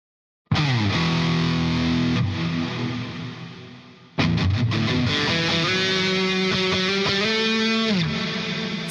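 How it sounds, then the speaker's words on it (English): Pleiades Metal Flange plugin effect processes a loud, distorted tonal sound with sweeping, metallic comb-like flanging, two long sustained phrases separated by a short dip, heard alone without talking. "Got a bit of a flanger sound to it."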